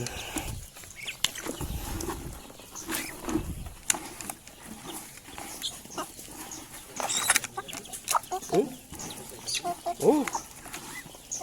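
Free-range village chickens cluck and squawk in irregular bursts, with low murmuring voices mixed into the farmyard noise.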